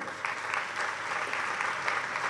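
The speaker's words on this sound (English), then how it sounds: "join me in a round of applause to thank Acharya Swami Sri for blessing us today" A UK congregation applauds to thank and welcome Acharya Swami Sri at a Swaminarayan gathering, with steady, dense clapping throughout from a large crowd.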